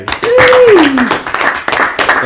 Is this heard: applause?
yes